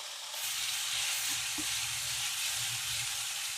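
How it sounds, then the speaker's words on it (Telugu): Paneer pieces frying in butter in a pan, a steady close bright sizzle with a few faint utensil clicks underneath, no talking. "ఇప్పుడు ఈ పన్నీర్ ఇందులో వేయాలి బటర్లో."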